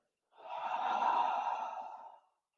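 A single deep, breathy exhale closes a yoga class. It is close and soft, swelling smoothly for about two seconds before fading to silence.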